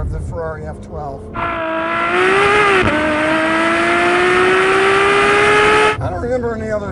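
Ferrari F12 Berlinetta V12 engine accelerating, a loud sustained high-pitched wail climbing steadily through a gear change, close and dominant, with brief speech before and after.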